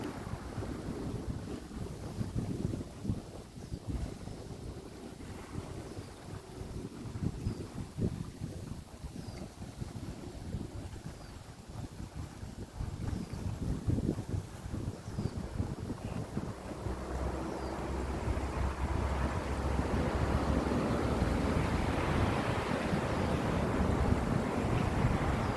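Steady wind blows across a microphone by the sea on a sunny morning, a broad rushing noise that swells louder in the second half, with surf and water faintly beneath and no talk.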